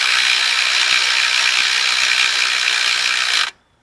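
Rapid ratchet clicking while a bolt on the alternator of a 2002 Toyota 4Runner with a 3.4-liter V6 is run down. The clicking is loud, close and continuous, then stops abruptly at the end.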